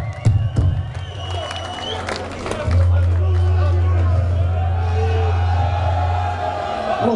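Concert crowd at Depot Brugge cheering and clapping for a band, a loud, dense roar of voices over a steady low hum, swelling midway and holding to the end.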